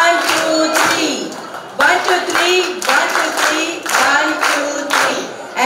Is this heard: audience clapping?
yes